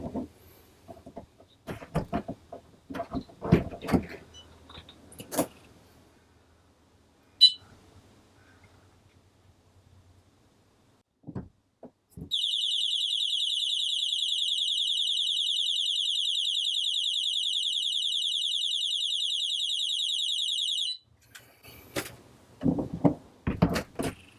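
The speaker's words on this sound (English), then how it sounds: "So there we have it, that's the actual alarm." An Ultrasecure caravan and motorhome alarm sounds a loud, steady electronic tone for about nine seconds. Door clunks, rattles and handling noises from the vehicle come before and after it.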